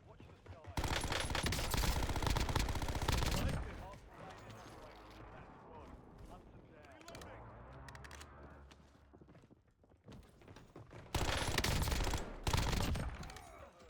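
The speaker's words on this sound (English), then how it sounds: "Shotguns are scary, bro." Shotgun blasts in a first-person shooter video game, dense and loud bursts of gunfire at the start and again near the end, with quieter movement and game noise in between while a person talks.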